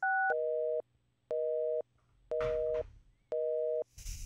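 Telephone busy signal in the adventure game Thimbleweed Park: a few evenly spaced electronic tones pulse on and off, each about half a second long, loud and clean, with a short static burst near the end.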